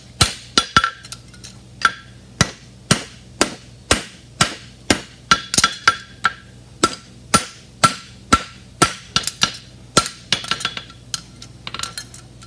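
A blacksmith hammers metal flat on an anvil with steady, loud ringing strikes in a regular rhythm, over twenty blows close by with no talking.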